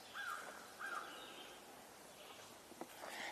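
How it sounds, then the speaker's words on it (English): An American crow calls faintly in the distance, a few short rough caws spaced apart outdoors amid quiet woodland ambience with other faint birds. "and an American crow."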